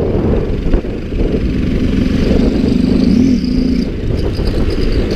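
A Honda XRE 300 motorcycle engine rumbles loudly and steadily close by, idling with a slight rise in revs partway through.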